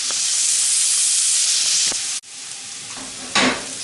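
Onion and garlic frying in a pan make a loud, steady close sizzle that briefly cuts out, then returns with a sharp burst of hissing as they are stirred, with no talking.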